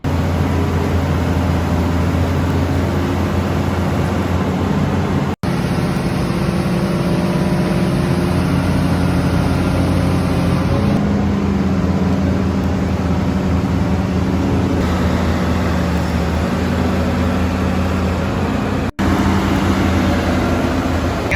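A Hitachi Zaxis 210F excavator's diesel engine runs steadily nearby, giving a loud, continuous low drone with a faint hum above it. Two brief cut-outs interrupt it, and no one speaks.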